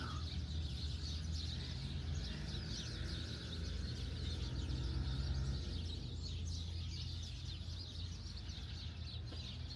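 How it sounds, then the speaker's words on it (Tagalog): Birds call in a grassy park in Ajman, UAE, with dense repeated chirps and twitters layered over a steady low outdoor hum that runs throughout. "Guys, pakinggan niyo yung huni ng ibon."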